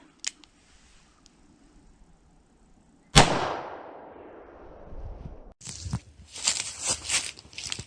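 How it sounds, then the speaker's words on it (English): A single sharp, loud gunshot from a .38 Special firing a lead hollow point round, cracking suddenly and trailing off into a decaying echo, followed by clattering handling noises. "Next, I'm gonna be shooting 38 special lead hollow point."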